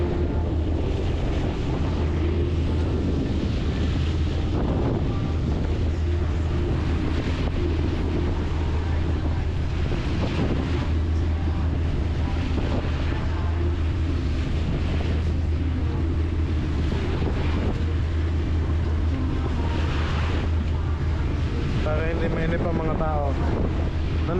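Strong wind buffets the microphone over large ocean waves heard from aboard a passenger boat under way, a constant low engine hum beneath it, with voices speaking faintly at times.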